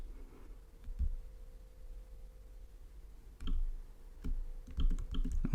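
Several sharp computer mouse clicks, a single one early followed by a quicker cluster near the end, close and crisp over a quiet room background.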